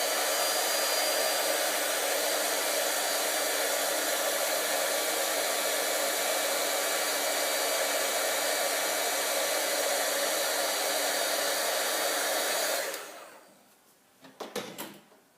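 A heat tool blows a steady, loud hiss for about thirteen seconds while heat-setting a watercolour stamp made with a clear acrylic block, then cuts off, followed by a few faint handling clicks.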